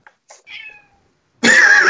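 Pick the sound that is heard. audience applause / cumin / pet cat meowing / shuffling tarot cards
pet cat meowing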